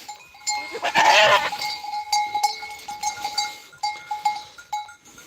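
A goat on a farm, a second-birth nanny with bitten teats, bleats loudly and close near the start, then quieter animal calls and faint clinks follow against a steady background hum.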